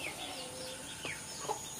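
Chickens clucking at a rural Thai gathering, with a couple of short, mid-loud clucks standing out over steady outdoor ambient noise and no speech.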